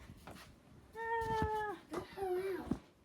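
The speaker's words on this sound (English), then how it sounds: "I know our cat's trapped in here." A cat trapped in a playroom gives two drawn-out meows close by, the first long and tonal, the second wavering, with soft background noise around them.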